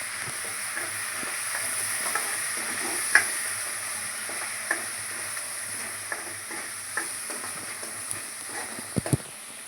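Puréed onion and tomato paste fries in a pan for an egg curry, giving a moderate, even sizzle with a few sharp clicks of a spoon stirring near the end, and no talking.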